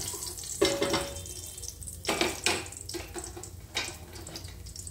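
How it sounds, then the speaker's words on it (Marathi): Pav bhaji masala being stirred into cumin frying in a pan, giving a close sizzle broken by a few louder scraping stir strokes, with a watery, tap-like hiss underneath. "आता याच्यामध्ये आपण अगदी थोडासा पावभाजी मसाला टाकणार आहोत"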